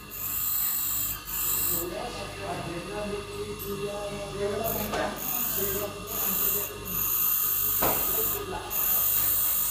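A twist drill bit is ground on a grinder to resharpen its 118-degree point angle, giving a continuous harsh rasping hiss with short scraping passes, while someone talks over it.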